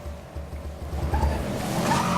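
A car engine runs with a rhythmic low rumble, its pitch and loudness rising as the revs climb, with a faint screech-like edge near the end; close and steady, no voices.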